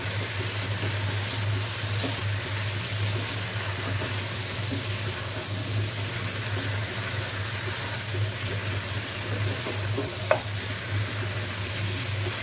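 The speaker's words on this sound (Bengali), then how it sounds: "এটাকেও আমি এখন একটু ভাজা ভাজা করে নেব" Beef curry with thick-cut onions fries in a pan and is stirred. A continuous close sizzle carries a low steady hum and occasional scraping or tapping of the spoon, with no talk.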